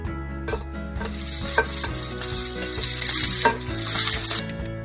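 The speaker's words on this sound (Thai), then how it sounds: "เมื่อน้ำมันร้อนแล้วนะคะ คุณครูก็จะใส่กระเทียมลงไปนะคะ" Garlic sizzling in hot vegetable oil in a pan, a loud close crackle with stirring scrapes and bursts of spatter throughout.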